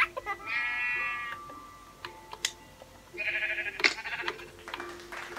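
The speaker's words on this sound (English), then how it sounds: "There's a sheep on my roof." Sheep in the video game Minecraft bleat in two clear bursts, one early and one later, with faint clicking sounds between them over a quiet background.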